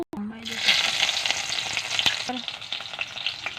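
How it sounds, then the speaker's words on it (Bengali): Onion paste, cumin paste, chilli powder and salt frying in oil in a wok give a loud, continuous close sizzle, with a few faint utensil clinks and no talking. "পেঁয়াজ বাটা জিরা বাটা লঙ্কার গুঁড়া লবণ দিয়ে দিয়েছি ভাজিয়ে নিচ্ছি মশলাটা"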